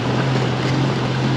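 Car engine held steady under throttle in first gear during a driving lesson, a loud continuous drone with a strong low hum, no talk over it.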